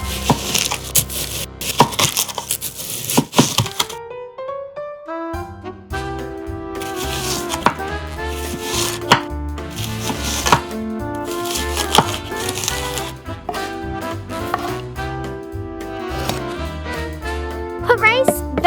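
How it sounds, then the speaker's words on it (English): A knife chops cabbage into thin strips for miniature cooking, giving many quick, crisp taps against a board under steady background music. The cuts come in bursts with short pauses between them. "Cut the cabbage into thin strips."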